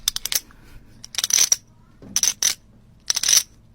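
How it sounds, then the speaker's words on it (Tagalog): Coins clinking and jingling in several short, close bursts with pauses between them, sharp metallic rattles heard alone without talk. "Barya."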